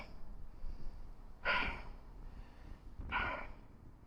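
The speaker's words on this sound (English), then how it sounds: "Excuse my panting, such good cardio." A rider pedals an e-bike uphill on Mount Steele in Sydney, giving two sharp, heavy breaths a second or so apart, close and audible over faint background noise.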